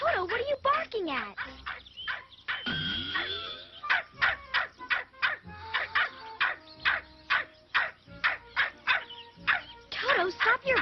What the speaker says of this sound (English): Toto, what are you barking at?